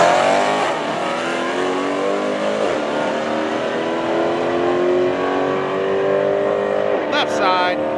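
A drag race car's engine revs hard at a drag strip, a loud sustained roar whose pitch climbs and drops as the RPM is held and eased for the clutch, with a voice talking under it.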